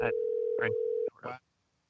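A phone call rings out through the handset, a single steady ringback tone lasting about a second, interrupted by faint voices talking over and after it.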